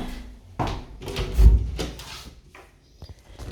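A rental property door with silver fittings is opened and closed nearby, producing a handful of woody thumps, clicks and a latch knock spread over a few seconds in a quiet room.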